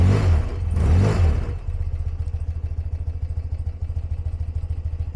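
A 1982 BMW R100RT motorcycle engine revs twice with throttle blips, then settles into a smooth, steady, rhythmic idle putter, close and alone.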